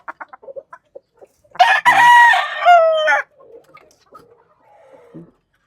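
A rooster lets out one long, loud crow close by, set among soft clucks and short chirps from pullets in a backyard flock.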